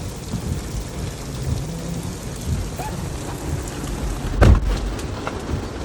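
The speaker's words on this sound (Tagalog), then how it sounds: "Ayan guys, umuulan na. It's raining and Auntie Naki is still there." Steady rain pours down on a campsite in Virginia Beach, Virginia, with distant thunder rolling in the background and one sharper, louder thunderclap cracking near the end, with no talk.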